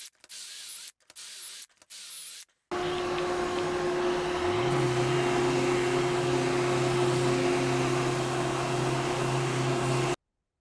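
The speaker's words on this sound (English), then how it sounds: "now I just need to drill some holes into the cross members" A power drill bores holes into the cross members of a wooden bench, whining loudly and continuously after a few short bursts, its pitch shifting slightly as the bit bites in, then cutting off.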